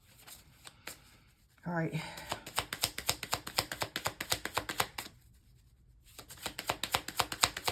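Crystal tarot-style cards shuffled near the mic in long runs of rapid riffling clicks, pausing briefly before resuming, with a voice speaking over the start.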